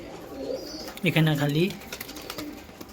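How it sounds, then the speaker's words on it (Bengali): In a home loft where Giribaz pairs sit on eggs, a male pigeon gives a short burst of soft, throaty cooing nearby, with someone speaking briefly just before. "আমার নর, এটা হলো নর পায়রা"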